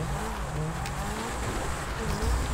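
A car driving off in a cops-and-civilians video game, a steady engine drone with some tire noise, continuous and moderately loud throughout with no speech.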